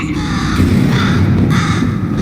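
A bird caws repeatedly in the video game Portal 2, loud harsh crow-like calls in a steady series over a continuous droning game background.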